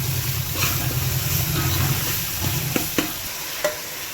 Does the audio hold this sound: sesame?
yes